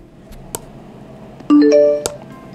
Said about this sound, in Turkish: Kapatırken de iPhone bildirim sesi çıkıyor.